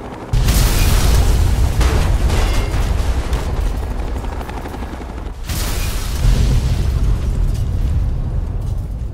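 Loud, sustained rumbling explosions roar almost without pause from the Fallout: Tale of Two Wastelands game world, with one brief dip midway before the blasts and booming debris resume at full force.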